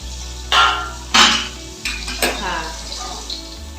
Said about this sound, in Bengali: মাছগুলো ভাজা হয়ে গেছে আশা করছি এতক্ষণে।